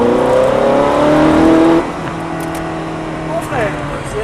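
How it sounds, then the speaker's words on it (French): Ferrari F430 on the Lédenon circuit at full throttle, its engine note climbing steadily in pitch and loud for nearly two seconds before dropping sharply and settling into a lower, steadier drone. "Gaz à fond."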